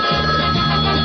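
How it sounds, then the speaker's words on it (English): Telephone line ringing on a sports radio show, a steady electronic ring tone with a sustained tone lasting about a second, loud and alone with no talk over it. "Celebrity line ringing."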